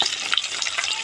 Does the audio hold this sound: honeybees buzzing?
no